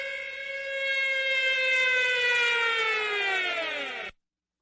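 A civil defense siren sound effect holds a loud, wailing harmonic tone for about four seconds, drifting slightly downward in pitch before cutting off abruptly into silence.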